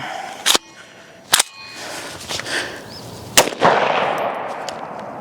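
Sharp, loud gunshots from a rifle fitted with a 3-position FRT trigger: a few separate reports spaced irregularly, with a cluster of close shots near the end and echo trailing behind them.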